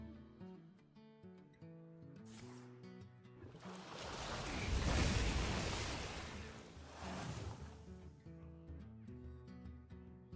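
An ocean-wave effect from the Rising Waves card in a video game swells into a loud, rushing surge over steady game music, then fades back down.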